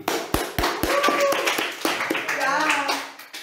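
A few sharp, separate claps from a small group of people greeting a guest on a talk show, with voices talking over and between them.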